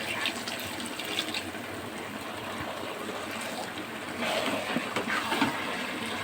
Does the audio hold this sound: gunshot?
no